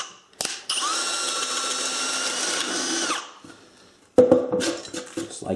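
A power drill fitted with a self-feeding spade bit whines steadily for about two and a half seconds as it bores through a workpiece for a collet rack, then winds down before a burst of clattering handling noise.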